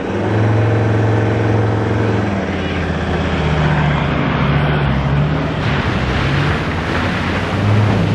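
A car towing an offroad caravan strains while bogged, its engine droning steadily and loudly with a deep rumble and churning noise throughout, no voices over it.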